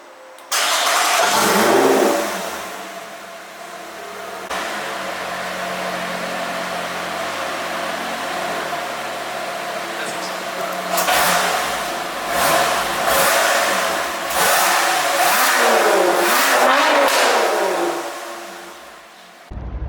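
A Lotus Exige sports car engine cranks and catches with a loud burst, settles into a steady idle, then gives several sharp revs near the end, close up with no talking.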